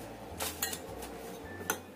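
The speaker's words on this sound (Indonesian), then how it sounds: "Kita aduk dulu semua bahannya." A spoon stirring seasoned snack ingredients, salt, pepper and stock powder, in a bowl, giving a few light clinks and scrapes against the bowl over a low background hum.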